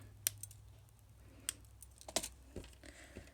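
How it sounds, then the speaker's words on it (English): Small wire cutters snipping off excess ends of Viking knit wire, a few sharp close clicks spaced irregularly over a quiet background. "So I'm just going to snip off a bunch of the excess."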